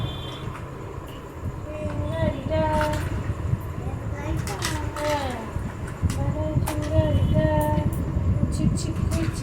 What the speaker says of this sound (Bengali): ঝিকঝিক করছি ট্রেন গাড়িটা